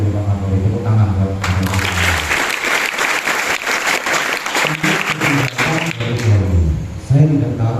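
Audience applause during a visit by the Banjarnegara police chief to an Islamic boarding school, bursting in after a voice and lasting several seconds of dense clapping before speech resumes over its fading end.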